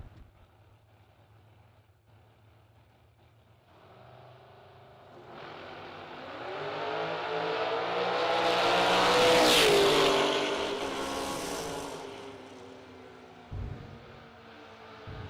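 Drag race cars, one running on two wheels, launch at a bracket event, an engine roar building from a distant rumble to a loud rising whine around the middle, then fading away down the track.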